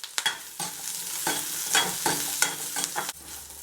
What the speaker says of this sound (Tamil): எடுத்து வச்சுருக்கிற சின்ன வெங்காயத்தையும் போட்டு நல்லா வணக்கிக்கலாங்க.